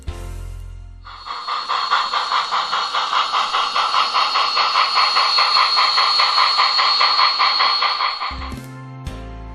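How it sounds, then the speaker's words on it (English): Rhythmic steam-engine chuffing from a model locomotive with a Train Control Systems Wow Sound digital sound package, steady puffs with hissing, framed by brief music at the start and end. "upgrade your model with a Wow Sound digital sound effects package from Train Control Systems."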